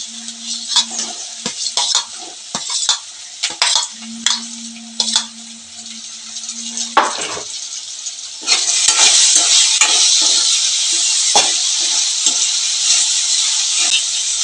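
Tomato added to onions and dried prawns frying in a pan, first a series of sharp stirring scrapes and knocks over a light sizzle, then a sudden, louder, steady hiss of frying that continues to the end.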